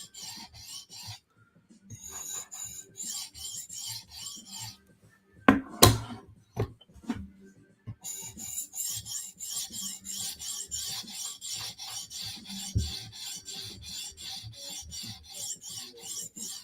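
Knife blade rasping back and forth on an 800-grit whetstone while being sharpened toward a mirror polish, steady rhythmic strokes up close with a brief pause and a few sharp knocks midway.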